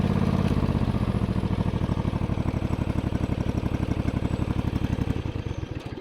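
A John Deere GT245 lawn tractor engine runs rich and misfires, a loud, close, uneven chugging with irregular pulses and stumbles throughout, tapering slightly at the end.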